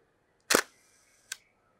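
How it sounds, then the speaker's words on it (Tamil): A Hasselblad 500C/M leaf shutter fires at a one-second exposure: a sharp mechanical click opening, a second of quiet, then a smaller closing click, close and clear with no talk. "ஸோ லீஃப் ஷட்டர் வந்து இப்படி தான் வந்து உங்களுக்கு ஒர்க் ஆகும்."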